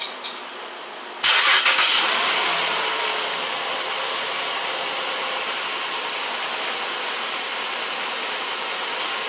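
A 2012 Jeep Liberty engine catches after a short quiet start, then settles into a loud, steady run with a broad hissing roar that continues to the end.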